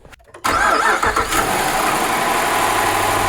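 A 2014 Jeep Grand Cherokee Summit with a 5.7-liter Hemi V8 cranks briefly and catches after freshly replaced spark plugs, then settles into a loud, steady idle close by.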